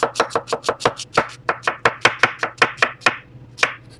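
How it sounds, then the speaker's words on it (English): A knife makes julienne cuts through an onion on a board, a fast, steady run of about twenty crisp chopping knocks with a brief pause near the end. "Now, the other one, we're going to do julienne cuts."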